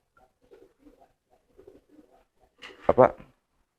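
A pigeon being bathed coos once, close and fairly loud, near the end, after a stretch of soft scattered rustling and faint low sounds.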